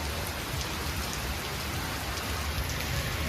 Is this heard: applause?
no